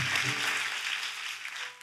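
A church congregation claps during a sermon, a soft, evenly spread patter of hands heard at a distance that fades a little near the end.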